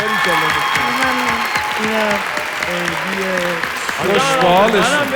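An audience applauds continuously at a children's Quran recitation show, a steady clapping wash under loud, sing-song voices that carry over it.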